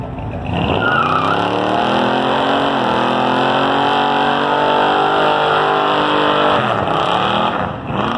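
A Chevy car engine at a church car show revs loud and close, holding a steady roar for several seconds with brief dips as the throttle eases and climbs again.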